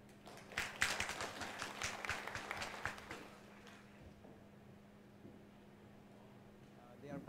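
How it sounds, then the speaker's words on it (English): At an international ocean governance conference, a round of applause for a speaker after a presentation: a few seconds of moderate, fairly close clapping, then fading to a quiet hum of the room. "Please give me in round of applause to the speaker for the insightful presentation."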